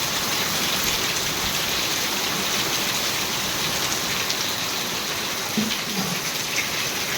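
Heavy rain pours down in a dense, constant hiss, loud and unbroken throughout, with no voices.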